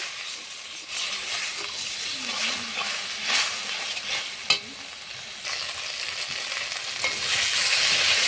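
Spiced masala paste with turmeric and salt fries steadily in a pan for egg curry, giving a continuous close sizzle and hiss broken by occasional spatula scrapes and a sharp clack, with no talking.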